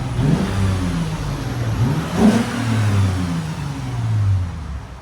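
Three quick throttle blips from the exhaust of a 2013 Lexus GS 350, its 3.5L V6 fitted with LCGP resonators, climb and fall over a steady idle, close and fairly loud with no voices.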